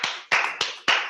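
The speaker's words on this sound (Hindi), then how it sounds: "सर जी के लिए एक जोरदार तालियां हो जाए दोस्तों।" Audience clapping in unison to welcome a speaker at a Hindi-language orientation training, four sharp synchronized claps in a slow steady rhythm, close and loud, each ringing briefly before the next.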